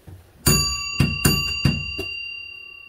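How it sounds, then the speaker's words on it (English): A trolley car's signal bell, rung by the conductor at the back of the car, strikes about five clear metallic dings in quick succession with long ringing tails, close and loud with no talk. "he's in the back of the car and would ring the bell"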